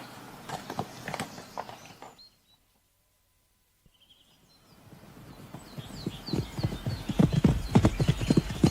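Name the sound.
horse hooves walking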